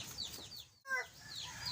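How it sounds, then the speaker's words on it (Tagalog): Chickens kept among backyard animals, with short clucks and chirpy calls that are close and fairly clear, punctuated by a sudden louder squawk midway. "May manok pa."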